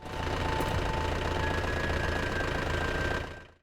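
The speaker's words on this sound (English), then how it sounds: "Cars in Coldfront have running engines that you can hear when you get close enough." A car engine idles steadily nearby in the Left 4 Dead Coldfront campaign, a continuous rumbling knock with a faint whine, fading out at the end.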